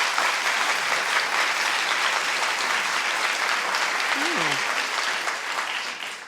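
Studio audience applause on a daytime talk show, dense and sustained at steady loudness for several seconds before easing slightly at the end, with a brief voice sliding through the clapping.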